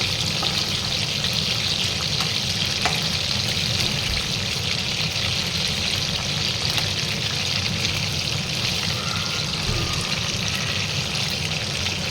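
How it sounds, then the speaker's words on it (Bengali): Chicken pakoras for restaurant-style chilli chicken deep frying in hot oil, a steady dense crackling sizzle that runs unbroken and fairly loud throughout, with no voices. "অল্প অল্প করে 2-3 ব্যাচে আমি চিকেনগুলো সব ফ্রাই করে নেব"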